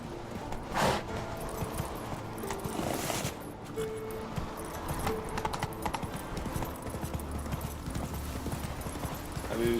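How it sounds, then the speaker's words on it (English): The horse Roach gallops with rhythmic clip-clop hoofbeats in The Witcher 3, a steady stream of hooves under game sounds while someone talks over it. "Run, Roach."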